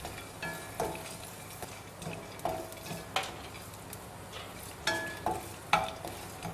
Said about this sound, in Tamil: அதே எண்ணெயில் பார்த்தீங்கன்னா இந்த சுண்டக்காய் வத்தல் போட்டுக்கிறேங்க